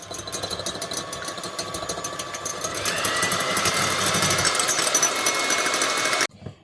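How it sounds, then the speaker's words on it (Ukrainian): An electric mixer whisks two salted egg whites, a steady buzzing motor whir that climbs in pitch and intensity partway through, then cuts off abruptly near the end, no talking. "А тепер беремо білки з двох яєць солимо їх та взбиваємо"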